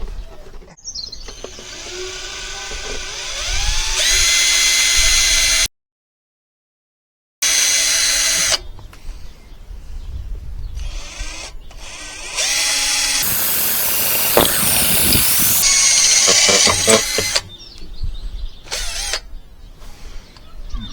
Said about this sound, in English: So let's go get our drill bits, get this drilled out.